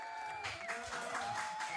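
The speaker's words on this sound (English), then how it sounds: "I need some applause, please." Studio audience applause at a live Saturday Night Live-style comedy show, a steady wash of clapping with some crowd noise and a few faint tonal sounds running through it.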